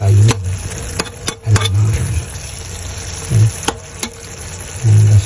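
Ingredients sautéing in a pan for a Filipino upo dish: bursts of loud frying sizzle come and go as things are stirred, with clinks of a utensil against the pan between them.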